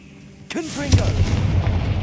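A Confringo fire spell goes off in Hogwarts Legacy, a sharp percussive blast that arrives after a brief spoken incantation, with a crackling, rumbling tail that lingers close and loud.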